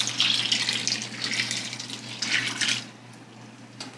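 Filtered water pours steadily from a Berkey gravity water filter into a container in a home kitchen, a continuous near splashing stream that stops near the end, with no talk.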